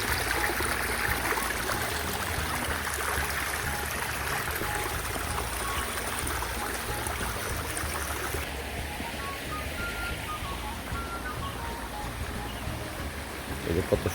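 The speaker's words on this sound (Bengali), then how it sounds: "এই যে দেখুন স্রোত," Strong floodwater after heavy overnight rain rushes past in a steady, loud wash, with a brief brighter splashing layer that fades partway through.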